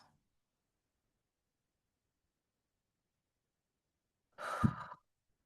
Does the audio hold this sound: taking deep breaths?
yes